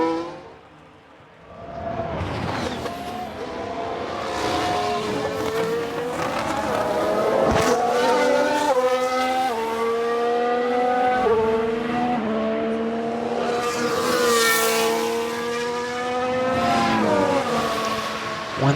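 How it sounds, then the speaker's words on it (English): Race car engines in the F1 Manager video game scream through rising and falling gear changes, high-pitched revving passes sweeping up and down, loud and continuous with no voices. "the car sounds are really nice"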